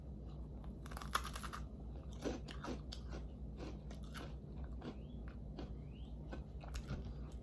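Someone bites into and chews a crunchy homemade macaroon, a quiet, close series of crisp crunches and chewing sounds, with no talk.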